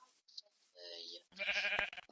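Sheep bleat in a video game, a few short wavering calls across two seconds, mixed with a voice and other game sounds.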